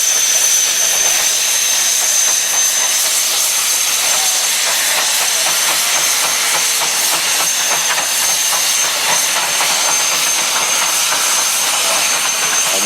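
A McLaren steam engine blows off steam very hard, a loud, continuous, unbroken hiss that holds steady throughout with no voices.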